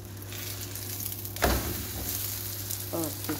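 Paratha frying in a pan on a stove, a steady low sizzle with a hum underneath, a sudden louder clatter midway and brief faint voices near the end.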